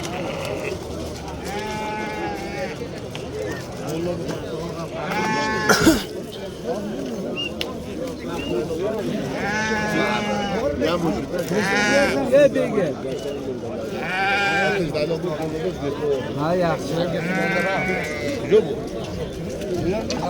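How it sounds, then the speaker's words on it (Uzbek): Sheep bleat repeatedly in short calls over a busy livestock market on a Thursday in Sariosiyo, with a steady crowd murmur and people talking throughout. "Shu yosh qo'ylarni ko'rsataylik ko'proq."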